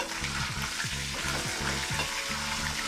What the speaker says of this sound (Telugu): ఎండుమిర్చిని కూడా వేసి ఫ్రై చేసుకుందాం.